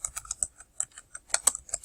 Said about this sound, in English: I keep typing on the wrong page